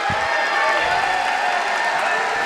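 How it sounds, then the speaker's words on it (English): Basketball crowd at a Class B district championship game between Tecumseh and Onsted, a steady wash of cheering and applause filling the gym with no break, loud and continuous. "This crowd is completely fired up."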